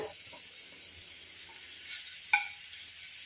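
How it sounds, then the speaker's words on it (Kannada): Chopped onion cooking gently in oil in a pan over a low flame, a faint, soft, hissing sizzle with one brief sharp clink partway through. "ಸ್ವಲ್ಪ ಈರುಳ್ಳಿಯನ್ನು ಕಟ್ ಮಾಡಿ ಹಾಕಿ ಈಗ ಈ ಈರುಳ್ಳಿ ಫ್ರೈ ಆಗಬಾರ್ದು ಇದರಲ್ಲಿ ಬೇಯಬೇಕು"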